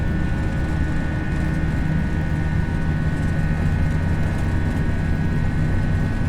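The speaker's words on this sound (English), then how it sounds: "Takeoff power set." Airbus A320 jet engines in a flight simulator hold a loud, steady roar at takeoff power, a continuous dense rumble with a faint high whine and no voices.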